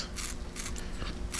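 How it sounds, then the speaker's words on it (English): A razor slices through hair during a haircut in short, crisp, scraping strokes, three or four close bursts separated by brief pauses, with no talk. "I'm gonna go ahead and take some of this weight out with our razor here."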